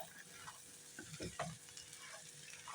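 Rice with chicken stock powder is stirred in a pan, producing a brief spell of soft scraping and stirring over a low sizzle.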